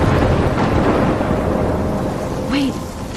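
Stormy weather from the video game Life is Strange, with a heavy, continuous roar of rain and rumbling thunder filling the scene at loud level, joined near the end by a short higher swooping tone.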